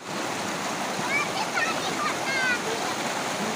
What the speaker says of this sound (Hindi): ऐसे यहाँ से पीने का पानी भर के ले जा रहे हैं